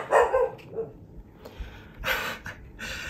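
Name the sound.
puppy barking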